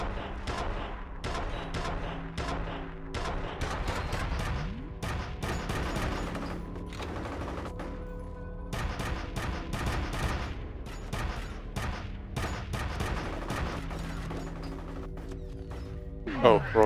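Rapid bursts of gunfire from the F.E.A.R. first-person shooter on Xbox 360, dense and continuous across the whole stretch with layered shots and impacts, loud throughout and swelling sharply at the end.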